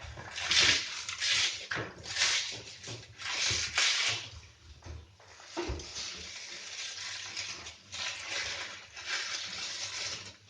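Plastic coating being stripped off scrap copper wire, rough scraping and tearing rustles in uneven bursts, close up with brief quieter gaps and no talk.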